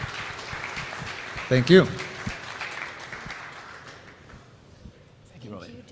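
An audience at the DOE Boost 2025 Showcase claps steadily in a broad wash, with a louder burst of clapping partway through before it fades, while a voice speaks over it.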